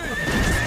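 A cartoon horse gives a short, bright whinny with a wavering pitched tone over light hoofbeat clatter. The cry is close and lasts under a second.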